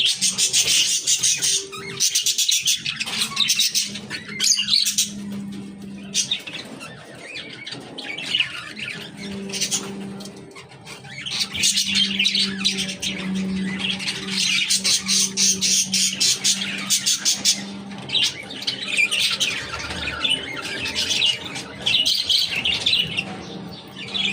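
Busy chorus of pet birds chirping and squawking in bursts, loud and close, with a low hum underneath and brief quieter gaps.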